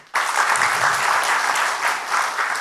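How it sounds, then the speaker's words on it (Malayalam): Steady audience applause from a crowd at a live comedy and music stage show, starting abruptly and holding loud and dense throughout with no talk over it. "എല്ലാവരും ഒന്നും കൂടി കൈയടിക്കാമോ?"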